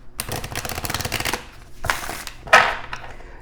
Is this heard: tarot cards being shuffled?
yes